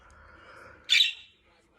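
A female budgerigar lets out a single sharp, high chirp that bursts out briefly over a low background hum, loud and close.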